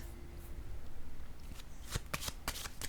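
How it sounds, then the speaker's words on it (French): Tarot cards are shuffled with quick riffling flutters, then slapped down onto a surface in several crisp snaps close to the microphone, alone in a quiet room. "Je vais déposer une carte."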